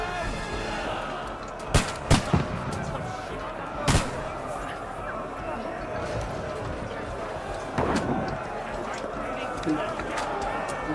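Battle shooting in Kingdom Come Deliverance 2, with a few sharp loud cracks and thumps scattered through a noisy fight while voices shout throughout.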